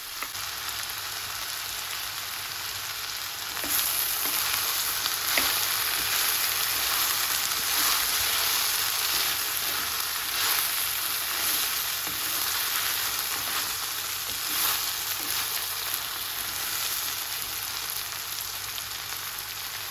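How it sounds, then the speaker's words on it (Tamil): Green beans sautéed in a pan with tempering spices, sizzling steadily and loudly up close, with intermittent scraping and clatter as they are stirred. "இப்போ நாங்கள் ஒருக்க புரட்டி விடுவோம் எல்லாரும் தாளியங்களோடு சேர்ந்து வதங்கி வரட்டும்"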